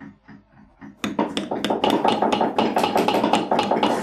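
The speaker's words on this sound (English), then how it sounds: "What are y'all hammering on?" Repeated hammer strikes on leather during a leather carving class, a quiet tap or two and then a steady run of sharp, close, even blows with no talking.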